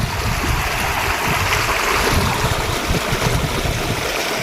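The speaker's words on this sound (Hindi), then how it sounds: "देखा कैसे पानी गिरे चलत पानी है बहुत ज़्यादा पानी गिरे" Loud, steady rush of heavy rainwater flowing through drains, a dense continuous wash with no pauses and no voices, close by.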